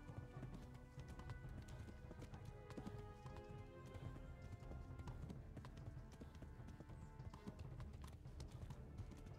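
A horse gallops in the medieval video game Kingdom Come Deliverance, a fast, continuous clip-clop of hooves with faint game ambience and bird calls around it.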